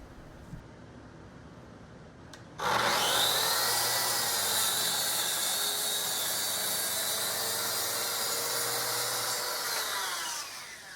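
A table saw cuts a 20-inch square of wood, spinning up with a sudden loud whine that holds steady through a long continuous cut and begins to wind down at the end, with no talking.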